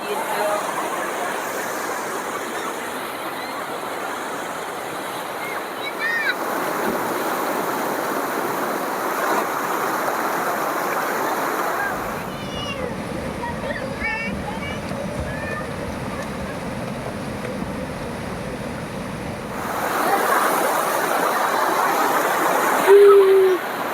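The Ciesek River at Lentemland campground rushes steadily and loudly close by, a continuous broadband wash of flowing water, while a person talks over it for much of the time.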